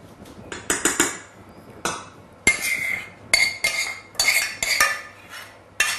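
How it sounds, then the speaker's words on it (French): A utensil scrapes and knocks melted chocolate out of a saucepan, giving a string of sharp, close metallic clinks and scrapes in irregular bursts with short pauses between. "On va essayer de prendre tout le chocolat dans la casserole pour pas en perdre."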